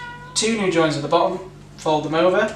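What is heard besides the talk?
cat meowing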